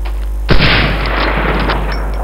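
A sniper rifle fires once in the video game Medal of Honor Allied Assault, a single sharp, loud close shot followed by a booming tail that rings out for over a second over a low background hum.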